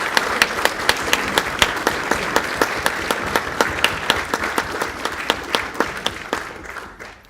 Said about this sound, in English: Join me in giving a big, big, big round of applause to Congresswoman Frederica Wilson.